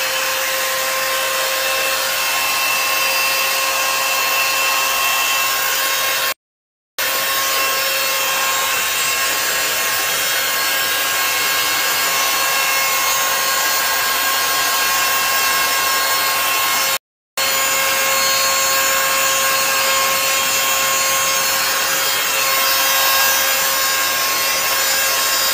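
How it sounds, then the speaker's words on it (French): A hair dryer fitted with a drying nozzle runs steadily, a loud continuous whooshing hum with a fixed tone, cut by two brief gaps, and no talk over it. "là je viens de mettre l'embout pour sécher les cheveux"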